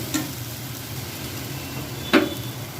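A spatula scrapes through mashed eggplant with chopped coriander in a pan with the heat off, two brief soft stirring strokes over a quiet steady background hum.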